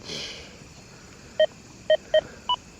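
A Deus 2 metal detector with the HF2 coil, swept over nails lying above a sterling silver ring, gives four short, clear electronic tones in quick succession after a soft sweep at the start, with no talk.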